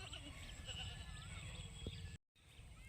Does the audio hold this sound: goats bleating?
yes